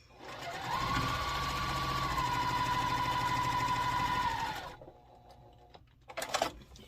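Sewing machine stitching a quilt block, a fast steady mechanical whir and rattle running for about four seconds, then stopping, followed by soft handling noises and a brief clatter near the end.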